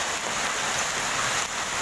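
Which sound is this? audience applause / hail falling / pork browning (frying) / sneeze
hail falling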